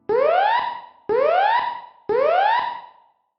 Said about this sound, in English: A fire alarm sounds like this.